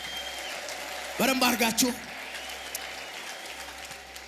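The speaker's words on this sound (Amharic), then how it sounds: "ለዚህ ትልቅ ለሆነው ጌታ ታላቅ እልልታ ጭብጨባ" A church congregation bursts into a short round of clapping and ululation for about a second, rising loudly over a voice speaking through a microphone before the talk carries on.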